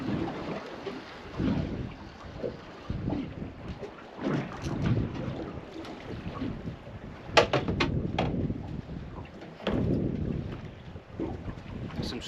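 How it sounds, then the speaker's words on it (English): A southwesterly wind blowing across a boat at sea in June, buffeting the microphone in uneven rumbling gusts that rise and fall, with a few sharp knocks and no talk. "There's a bit of a southwesterly blowing, which is not a problem."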